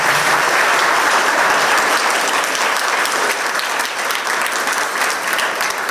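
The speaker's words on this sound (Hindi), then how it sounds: "इनका हमने एक बार जोरदार तालियों से स्वागत करते हैं।" Loud, sustained audience applause welcoming Padma Shri Uday Deshpande at a Versova Education Trust event, dense clapping held steady from start to finish.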